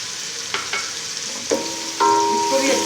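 Red chilli powder, turmeric and salt fry in a pan for kadhi pakora, a loud, steady sizzle punctuated by a few sharp metallic taps and scrapes of a spoon stirring, close up.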